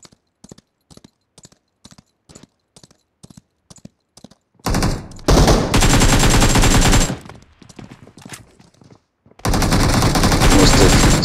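Gunfire from a mobile shooter game in a ranked match on a Redmi K50i: a string of evenly spaced single shots, then loud, sustained automatic bursts that fill the rest of the clip.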